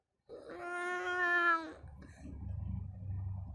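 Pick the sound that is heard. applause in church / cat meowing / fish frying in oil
cat meowing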